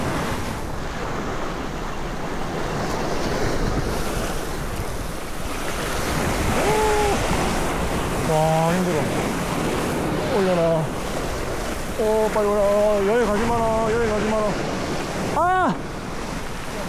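Strong wind rushes over the open sea during a fishing trip, with a continuous roar of waves and microphone buffeting throughout, while several short whining, tonal squeaks cut in near the middle and end.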